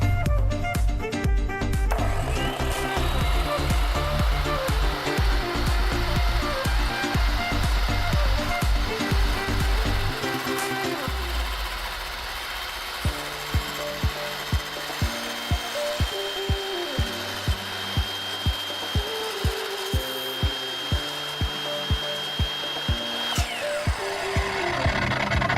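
A Ridgid miter saw cuts a throat plate. The loud, sustained whine of the spinning blade is close and continuous, then settles into a steadier drone marked by regular ticking.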